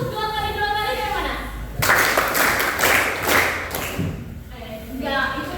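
Classroom of students clapping in unison during a counting clap game, a dense burst of hand claps lasting a couple of seconds between stretches of a teacher's voice.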